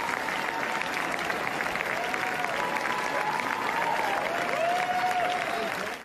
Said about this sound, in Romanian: Alicia Vikander a primit ovații timp de 8 minute